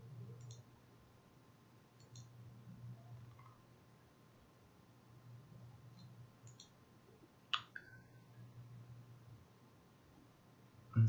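A computer mouse gives a few sharp, faint clicks spaced several seconds apart over a quiet background hum, with one louder click near the end.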